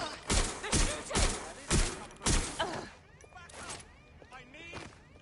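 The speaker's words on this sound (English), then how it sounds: "They're shooting!" People shooting guns: five loud, sharp shots fire in a fairly even rhythm close by, followed by fainter scattered noise and a voice.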